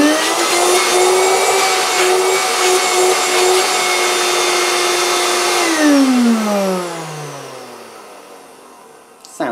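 A 1980s Moulinex Handivac hand-held vacuum cleaner with hose and a dirty cloth bag runs with a loud, steady motor whine, then switches off and winds down in a falling hum to near silence.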